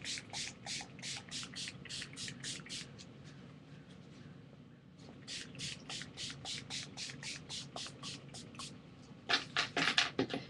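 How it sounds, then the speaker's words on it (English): Rapid pumps of a small spray bottle misting sunflower and cornflower colour onto a mixed media album canvas, in quick rhythmic runs of short hissing bursts, close by, with a louder flurry at the end. "around the edges, I'm going to spray the sunflower or the cornflower"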